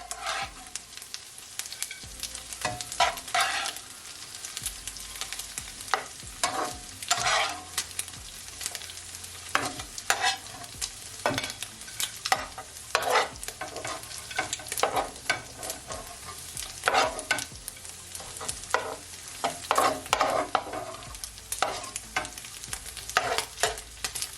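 Smoked bacon sizzling in a pan of fried cabbage, with a constant crackle broken by repeated sharp scraping and stirring strokes as pieces are lifted out.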